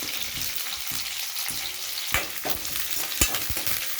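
Mustard seeds, dried red chillies, chana dal, onion and curry leaves frying in hot oil for a tempering, a continuous close sizzle with a few sharp stirring scrapes and pops, no talking.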